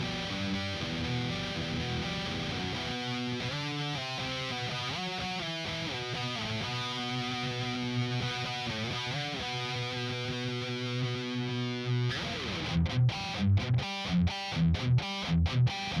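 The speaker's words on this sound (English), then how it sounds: "I'll switch the distortion on and off as well" An electric guitar plays a string of distorted chords and notes. Near the end, choppy bursts break up the sound with brief silent gaps.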